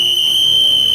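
A whistle is blown in one steady, piercing, unbroken note that lasts the whole moment, loud and close, with no talking.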